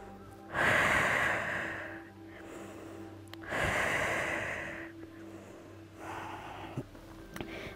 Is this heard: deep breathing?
yes